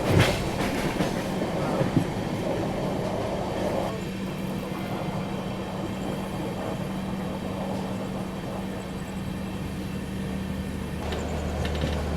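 Koyna Express crossing beside a moving Duronto train: a loud, continuous rail rumble with steady wheel clatter and a low droning hum that lasts throughout, with no voices.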